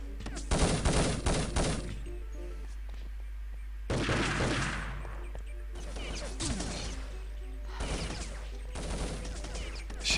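Gunfire in a competitive online shooter match between Hungary and Australia, with several sharp bursts of rapid shots and a heavy grenade blast around four seconds in, scattered across the clip between quieter gaps.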